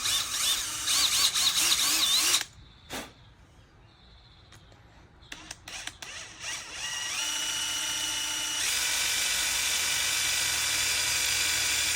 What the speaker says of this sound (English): I'm drilling into the meat of the bolt because I'm a little on the edge.